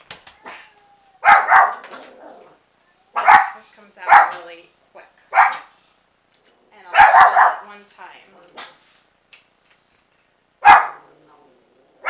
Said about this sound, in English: Sorry about my dogs, they're crazy.